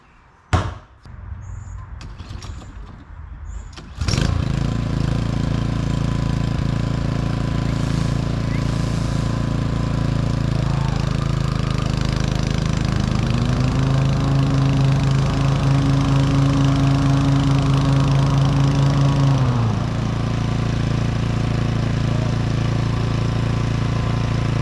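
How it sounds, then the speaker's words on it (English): A battery-powered Flex Force lawn mower starts with a few clicks and knocks, then runs with a loud, steady whirring drone that briefly rises in pitch before settling, close by and continuous. "You're supposed to be mowing the lawn."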